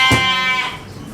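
Goats locked in their pen at dusk on a homestead bleat loudly and close, one sustained wavering cry followed by another, quieter call.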